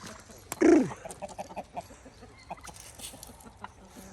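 Chickens cluck nearby, one loud squawk followed by a scatter of soft, quick clucks in a quiet farmyard.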